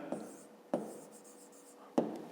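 Pen writing numbers on paper for a fifth-grade math division exercise: three sharp taps or strokes with faint scratching between them, quiet and close.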